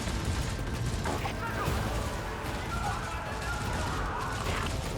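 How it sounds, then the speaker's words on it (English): Dense, continuous rattle of rapid gunfire, death screams and crashing impacts transmitted over a vox in the game Warhammer 40,000: Rogue Trader, loud and chaotic throughout with no clear pauses. "Vox transmits sounds of gunfire and death screams"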